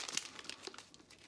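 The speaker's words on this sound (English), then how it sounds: "Let's get the old scissors." Crinkling and tearing of plastic Funko Soda packaging as scissors cut it open to reach a large Pumpkin King Jack figure, a close, busy run of rustles and snips without speech.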